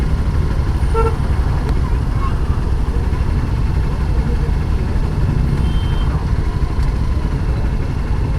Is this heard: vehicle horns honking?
yes